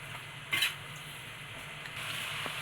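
Chicken with tomato, coriander, mint and spices gets stirred in a pan, a soft sizzle running underneath while a utensil scrapes and clinks against the metal in short bursts.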